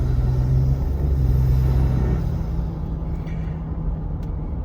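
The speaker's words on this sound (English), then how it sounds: "Spinning tires." A Ford F-150 spins its tires, heard as a steady loud low rumble of engine and tire noise that holds through the whole stretch and eases slightly toward the end, with no talking.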